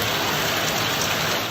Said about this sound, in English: The brollies weren't great, but the rain was good.